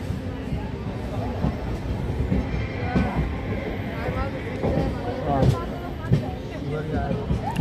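Magadh Express running near Aligarh Junction, a steady rumble and rattle of rolling coaches with brief clanks and faint wheel squeal, continuous and close, with people talking over it.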